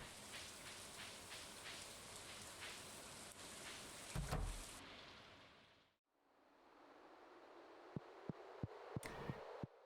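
Rain falls steadily in the Stardew Valley video game as a dense, even hiss that cuts out abruptly partway through, then returns softer with a few sharp ticks near the end; faint and without talk.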